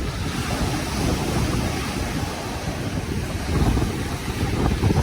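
Waves surge steadily onto the Manila Bay shore, a dense, rushing wash of surf with strong wind buffeting the microphone throughout, swelling louder toward the end.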